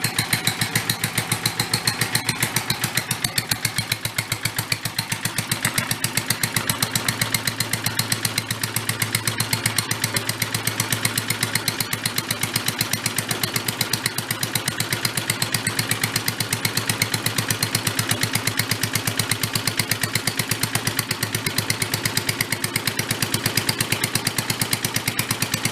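A vintage Mite-e-Lite generator engine runs at full throttle, a loud, close, rapid and even mechanical chatter that holds steady throughout with no one talking.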